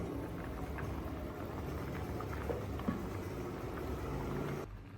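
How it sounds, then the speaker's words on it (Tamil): Water for a Tamil-style fish curry simmers in a pot on a stovetop, a soft continuous low bubbling hiss with faint pops, quiet and close, cutting out abruptly at the end. "கொஞ்சம் தண்ணி சேர்த்து போட்டுட்டு ஸ்டவ் ஆன் பண்ணி கொதிக்க வச்சுக்கோங்க."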